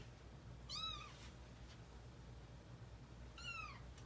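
A pet cat meows twice indoors, two faint, drawn-out calls about three seconds apart over a low background hum.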